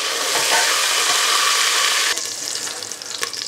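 Beef pieces sizzle and fry in hot butter lard for goulash, a loud steady crackle that drops slightly when stirred, with scraping and clinking of the utensil near the end.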